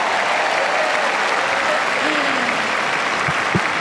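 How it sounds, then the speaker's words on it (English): A large Paris crowd at the 2024 French Open women's final claps and cheers the tennis champion, loud sustained applause filling the stadium, with a few brief voice fragments rising above it near the end. "You were cheering for me"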